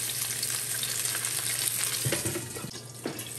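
Pork belly fries in a pan for breakfast with a steady, loud sizzle and crackle throughout, plus a few brief clatters of the pan or utensil near the end.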